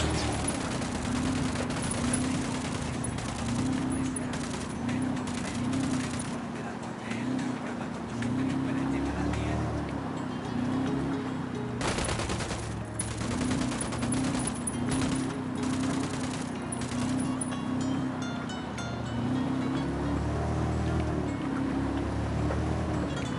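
Gunfire in a video game crackles as dense, continuous rapid shots over a steady droning engine hum, fairly loud throughout with a brief heavier burst midway.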